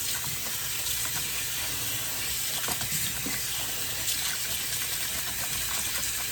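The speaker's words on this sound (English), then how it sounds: "I'm gonna rinse it with cold water first." A steady, loud stream of tap water runs and splashes continuously, close up, with no voices.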